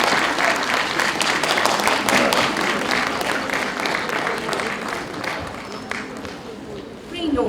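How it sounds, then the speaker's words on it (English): Applause from an audience at a law school's memorial ADR and client counselling competition ceremony, dense and sustained clapping throughout with voices mixed in, tapering slightly near the end. "A big round of applause, everyone."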